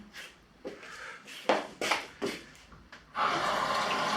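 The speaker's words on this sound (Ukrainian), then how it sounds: "Тепер беремо воду, звичайно, ну, трошки промиваємо" Running tap water rinses food in a kitchen while cooking a cheap lunch in Bulgaria, coming in short splashing bursts and then a steady, louder stream at the end.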